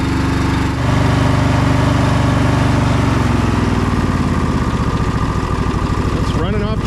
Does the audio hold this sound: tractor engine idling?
yes